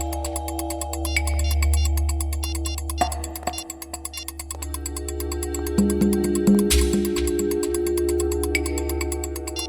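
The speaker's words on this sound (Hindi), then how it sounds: "फोन लगाओ दया को." A mobile phone call tone plays steadily with repeating beeps over a low hum, in an indoor scene with a few clicks and brief background noises.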